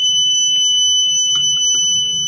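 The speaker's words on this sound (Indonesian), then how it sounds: "WeMOS akan memberikan inputan sinyal ke buzzer untuk berbunyi selama 15 detik" A buzzer alarm on a flame-sensor fire detection system controlled by a WeMOS board sounds a steady, loud two-tone electronic beep that holds without a break, with faint clicks underneath and no talking.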